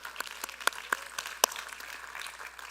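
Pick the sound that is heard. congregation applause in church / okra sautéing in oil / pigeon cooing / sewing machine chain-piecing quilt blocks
congregation applause in church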